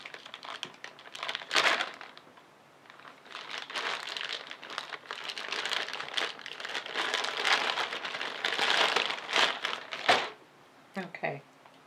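Package torn open by hand, with irregular bursts of crinkling, ripping paper and plastic rustling at close range, ending in a few sharp crackles.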